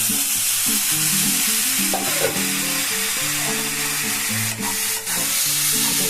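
Spices with a splash of water cook in a pan, giving a steady bright sizzle with stirring scrapes, while music with a plucked melodic line plays underneath throughout.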